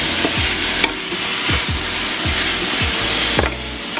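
Ground turkey and bell pepper stir and sizzle steadily in a hot pan, a continuous frying hiss broken by several scraping stirs of a utensil at a steady pace, close and alone.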